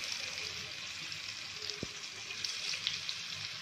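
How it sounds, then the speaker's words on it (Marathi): Alu vadi pieces shallow frying in a little oil on a tawa produce a steady, moderately quiet hiss of sizzling close by, with one brief knock partway through and no talking. "तव्यामध्येच मी शॅलो फ्राय करणार आहे"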